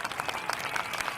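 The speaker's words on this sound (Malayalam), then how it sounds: "നല്ലൊരു കൈയടി കൊടുക്കാം അല്ലേ സുനിലിന്?" A brief burst of audience applause at a Malayalam comedy show, dense rapid clapping from a crowd, moderately loud and continuous.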